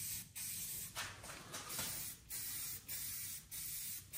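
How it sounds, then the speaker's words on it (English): Black matte Rust-Oleum 2X spray paint hisses from an aerosol can onto a 3D-printed mask, several close, loud bursts separated by short pauses. "I painted with black 2X Rust-Oleum matte spray paint."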